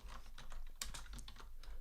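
Quiet, rapid typing on a computer keyboard, a steady patter of light key clicks alone with no talking.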